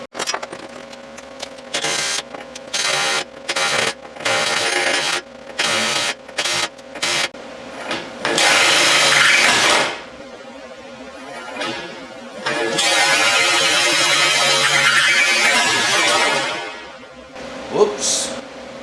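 A drill fitted with wood bits bores into aluminum pontoon railing in short stop-start bursts, then in two longer, louder grinding runs, recorded up close.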